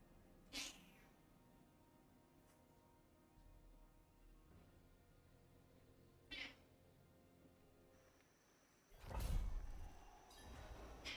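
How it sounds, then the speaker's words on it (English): A house cat meows several times at close range in a quiet room during a Diablo 4 gaming session, with short separated calls and a louder, drawn-out cry near the end. "That's a cat."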